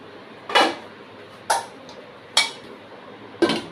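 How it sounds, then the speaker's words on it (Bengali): A metal lid set onto a cooking pot while boiling borboti (yardlong beans) for bhorta: four short clinking knocks spaced about a second apart, close and crisp against a quiet kitchen background. "দিয়ে এবার এটাকে ঢাকা দিয়ে দেব।"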